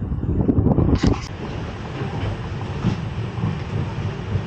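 A passenger train runs along as heard from inside a carriage, a loud steady rumble and rushing roar with a brief louder clatter near the start.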